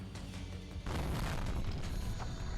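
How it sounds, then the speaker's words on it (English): An oil tank on a truck explodes in a video game, a sudden loud boom that rolls into a sustained rumbling blast for a couple of seconds after a quieter lead-in. "The subsequent explosion kicks up a thick, riling cloud of black smoke."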